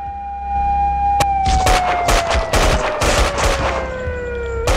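Police fire bursts of gunshots in the video game Max Payne 2, a rapid volley of loud cracks layered over a wailing siren whose tone slowly falls.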